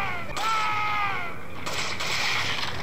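Gunfire in the VR shooter Resident Evil 4, a dense burst of loud, close shots with ringing, echoing tails that blur together over about three seconds.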